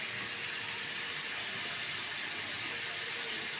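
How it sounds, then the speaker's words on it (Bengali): Five kinds of mixed vegetables frying in a pan for a breakfast curry, giving off a loud, steady sizzling hiss that runs unbroken and close with no voice over it. "এই যে পাঁচ রকমের সবজিটা আমি বসিয়ে দিয়েছি দেখো এই যে ভাজা ভাজা করে নিচ্ছি"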